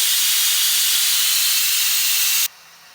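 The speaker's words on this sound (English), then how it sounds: "and release the steam" Steam hissing loudly and steadily out of a pressure cooker's release valve after cooking soup, a sustained bright hiss that cuts off abruptly near the end, leaving quiet room tone.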